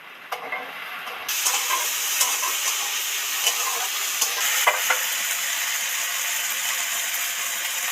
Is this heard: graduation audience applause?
no